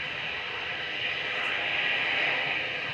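An EasyJet airliner departing Manchester Airport, a steady broad jet roar heard from a distance, swelling slightly as it goes.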